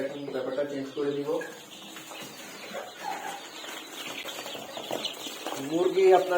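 Bantam chickens cluck in short bursts near the start and again toward the end, fairly close, with a quieter farmyard murmur between.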